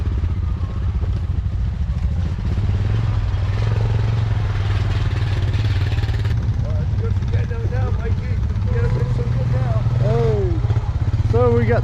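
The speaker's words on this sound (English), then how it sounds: "So we got the Honda 450 up front and the 350 in the back." Honda 450 off-road motorcycle engine idling and rumbling nearby outdoors, a steady low drone running the whole time beneath people talking, with other engines audible in the mix.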